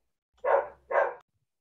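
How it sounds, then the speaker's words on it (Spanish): A pet dog barks twice in quick succession, two short, full woofs close by, then silence. "Seguro pasó un gato y estaba ladrando"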